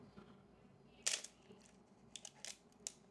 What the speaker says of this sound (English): as I advance, this winding wheel goes.